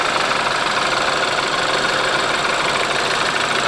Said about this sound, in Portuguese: olha a serenidade do funcionamento desse motor